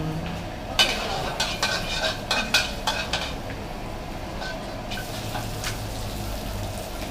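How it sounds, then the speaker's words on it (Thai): Garlic fries in a little oil in a pan at a Yasothon bus station food stall, a sizzle under sharp clinks and scrapes of a metal spatula against the pan, close and busy. "น้ำมันนิดเดียว ใส่กระเทียม"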